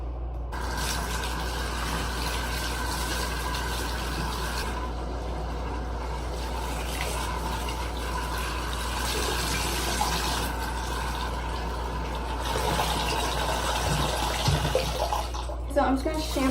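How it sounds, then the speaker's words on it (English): Cold water runs steadily from a tap while dyed hair is rinsed, a constant close rush that keeps on throughout, with a few bumps and splashes near the end. "You rinse it out with cold water because if you use hot water, it pulls a lot of the color out."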